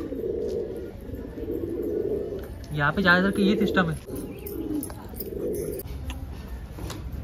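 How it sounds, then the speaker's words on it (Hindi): Pigeons cooing close by in a loft, soft repeated throaty coos rising and falling under someone talking, with one louder, fuller burst of cooing in the middle. "यहाँ पे एक नया कबूतर आया"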